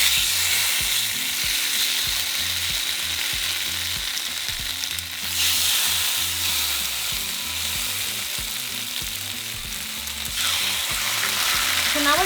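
Marinated al pastor meat fries in a little hot oil in a cast iron skillet over medium heat, a loud, dense and continuous sizzle that holds steady throughout, over a low rhythmic musical backing.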